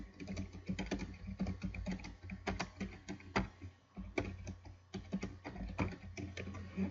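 Steady typing on a computer keyboard while entering a text message, with a continuous run of closely spaced clicky keystrokes, fairly near and moderately loud, and no voices.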